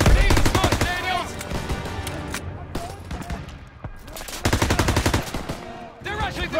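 Dense bursts of automatic and rifle gunfire crackle loud and close in Call of Duty WWII, a World War II shooter, with rapid volleys, brief pauses and shouted battlefield voices between the shots.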